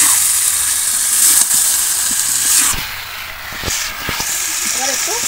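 Fried potatoes, Malabar spinach stalks and chicken tipped into hot, oil-separated masala for a chicken curry, giving a loud, steady sizzle and hiss that eases slightly midway, with brief clatters over it and a voice speaking throughout.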